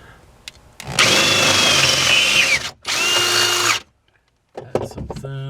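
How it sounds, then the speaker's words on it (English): A power drill with a 1/4 inch bit bores through thin metal on a 1994 Saab 9000 sway bar mount, running in two loud, close whirring bursts separated by a short pause, followed by brief clatter. "I've got a 1/4 inch bit here, 1/4 inch 6mm, something close."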